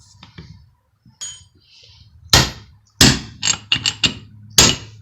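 A big blunt chisel is hammered against a Ford Econoline E350 steering box, several loud sharp metallic strikes, some in quick succession, after faint handling noises.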